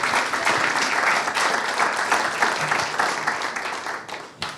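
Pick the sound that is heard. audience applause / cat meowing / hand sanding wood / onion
audience applause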